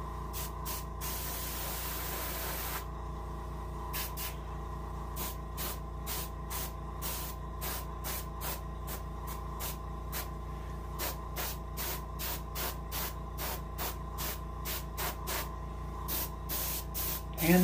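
An airbrush sprays orange paint onto the bottom fins of an Arctic char taxidermy mount, giving a steady close hiss broken by many short, regular bursts as the trigger is pulsed.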